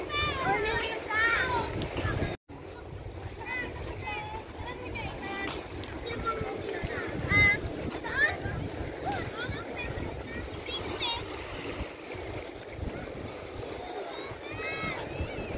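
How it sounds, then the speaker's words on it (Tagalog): Sea waves wash steadily onto a white sand beach at Cabongaoan in Pangasinan, a continuous broad surge close by, with people talking over it and boats nearby. "Sarap pakinggan ng alon, no? Ng tubig."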